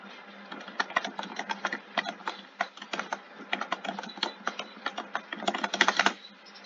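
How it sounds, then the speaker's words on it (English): Computer keyboard keys click in rapid uneven bursts while Friday Night Funkin' is being played, fairly close and clear over a low background hum, ending abruptly with no speech. "Sorry if you can hear my keyboard, it might just be a bit annoying."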